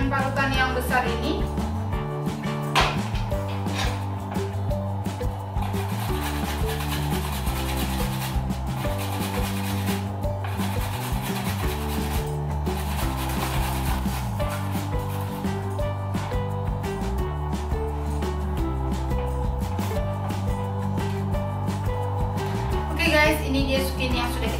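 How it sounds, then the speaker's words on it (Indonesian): Zucchini is grated on a large grater in a kitchen with repeated rhythmic rasping strokes, a steady scraping back-and-forth cycle running throughout at close range. "Aku akan parut dengan parutan yang besar ini."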